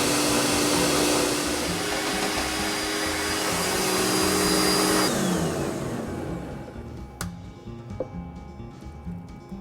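A Vitamix blender purees a coarse sunchoke and bacon mixture with whey: a loud, steady motor whir with churning liquid, then the pitch drops as it winds down, leaving scattered clinks and faint room noise.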